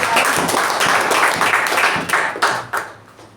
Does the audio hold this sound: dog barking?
no